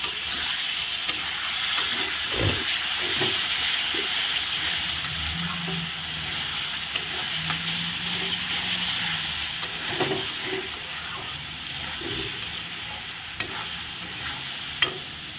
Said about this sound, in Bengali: এখন মশলাটা ভালো করে কষানো হবে। কষানো হোক একটু।